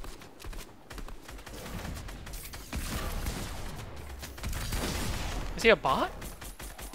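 Gunfire crackles in the Fortnite video game in bursts of distant, rattling shots, heard under a voice chatting over the match along with other game noises.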